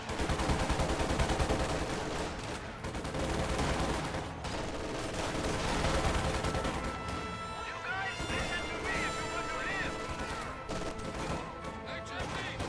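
MG42 machine-gun fire in a WWII strategy video game rattles in dense, continuous bursts amid crashes and explosions, with a commentator talking over it.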